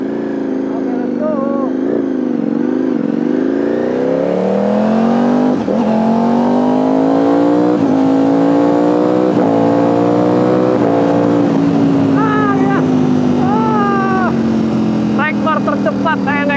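A superbike engine revs hard while riding, its loud, near drone climbing steadily in pitch, dropping briefly at gear changes, then easing off into a sustained high whine.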